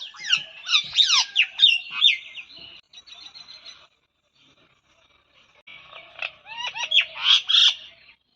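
A pet parrot in a jamrul tree imitates a myna, loud nearby bursts of squawks, whistles and chattering notes, a quiet pause, then another burst of calls.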